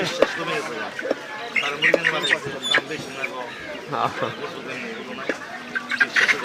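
Chickens cluck and squawk in irregular bursts at close range at a market stall where chickens are weighed and butchered, mixed with people talking over a busy background.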